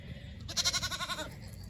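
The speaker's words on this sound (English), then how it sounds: "She's never made a sound much louder than just this little tiny little bleat" A young goat kid gives one soft, short bleat, a quivering tremolo cry heard close up over a quiet background.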